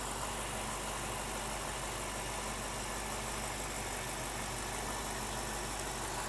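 A 4.5 litre V8 car engine in great condition idles steadily, a continuous low, throaty rumble held close and even with no other sounds.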